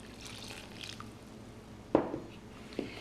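Stirring canola oil and water into fry bread dough in a bowl, a soft quiet background followed by a few wet squishes and drips, two distinct sloshes close up near the end.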